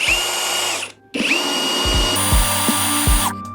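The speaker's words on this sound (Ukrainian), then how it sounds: "Коли натискаєте повністю кнопку, шуруповерт працює в звичайному режимі." ProCraft CD20B cordless screwdriver running at full trigger in normal mode: a loud, steady high-pitched motor whine that stops briefly near one second, restarts, and runs on with a clattering rattle until the end.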